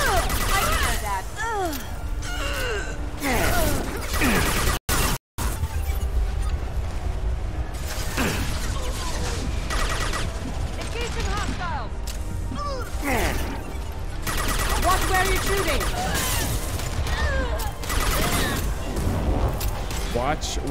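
Gunfire in a Mass Effect 2 firefight crackles in dense bursts throughout. Impacts and clattering mechanical hits mix in at a moderate, steady level, with voices speaking over the shooting and one brief dropout.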